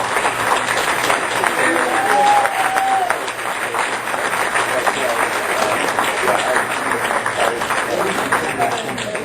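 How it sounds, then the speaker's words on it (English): Audience applause for a community advocate at an environmental health leadership summit in Imperial County, a steady wash of clapping across the whole stretch with a murmuring crowd and some voices mixed in. "So if you could all just help me give a big applause to Mr."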